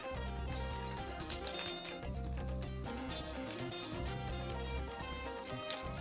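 Fish cakes sizzling in a frying pan, a steady, fairly quiet crackle of hot oil that holds on without pause, with no voices over it.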